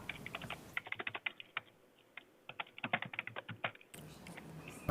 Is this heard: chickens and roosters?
no